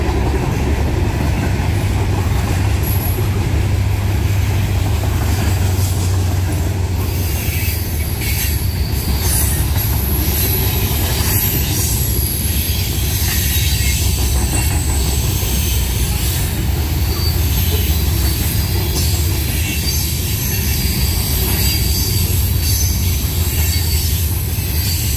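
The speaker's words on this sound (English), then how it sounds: "with an extra ballast train heading north" A heavy Norfolk Southern ballast train on the D&H line in New York State rumbles past nearby, northbound, for a long stretch, a steady loud roar of wheels on rails with occasional squeals and clanks.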